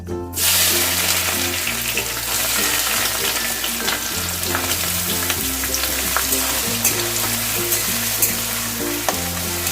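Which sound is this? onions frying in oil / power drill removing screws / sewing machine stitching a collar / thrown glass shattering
onions frying in oil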